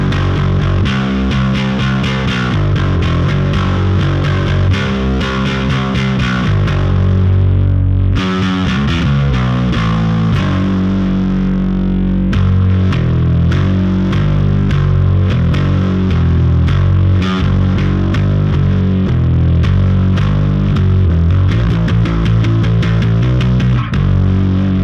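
A bass guitar runs through a compressor and then an overdrive pedal, giving a loud, gritty, distorted tone. Sustained notes and chords carry on throughout with a short break partway, and nobody speaks.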